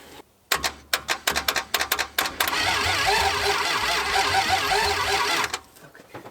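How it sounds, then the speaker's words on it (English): A seized engine in a crushed Dodge Charger that sat for decades, its starter bumped in a run of short, sharp mechanical bursts before breaking into a sustained, loud grinding crank that cuts off abruptly. "I was able to bump the starter and it got past whatever rough spot that was"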